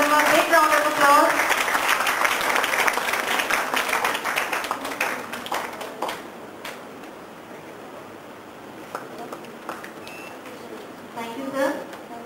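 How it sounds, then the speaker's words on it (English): Audience applause at a 2015 BICON conference session, a burst of clapping that dominates the first half and then thins out, with voices heard as it fades and a short final flurry near the end. "Please give him a big round of applause."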